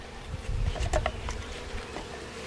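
Package honeybees buzzing inside their shipping box as it is knocked to shake them down: a close, dense insect drone with a few dull thumps and knocks near the start, no talk.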